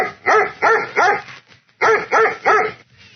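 A dog barks loudly and close by in two bursts of three sharp, rhythmic barks, separated by a short pause with a faint whine, and no voices over it.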